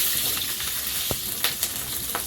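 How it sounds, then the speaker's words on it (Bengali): Nigella seeds and green chilli sizzle in hot oil in a kadai, giving a close, continuous frying hiss broken by a few sharp crackles and spits. "কড়াইতে তেল দিয়েছি একটু কালো জিরে তেলে দেবো"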